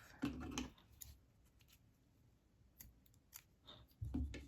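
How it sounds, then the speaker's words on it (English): Scissors snip a crocheted yarn tail on an amigurumi duck, two crisp cuts about four seconds apart with quiet handling in between, close and alone. "you're going to trim this yarn tail off"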